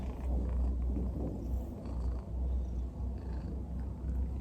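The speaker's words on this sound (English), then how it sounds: "Don't mind my cat purring." A house cat purrs close to the microphone, a steady low rumbling throb pulsing in regular breaths throughout, with no talk over it.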